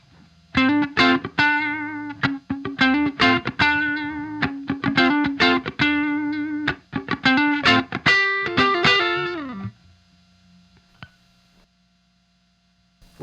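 An electric guitar plays through a Fender '76 Super Reverb amp head with the reverb switched on, picking bright repeated notes and chords for about ten seconds before ringing out over a low amp hum.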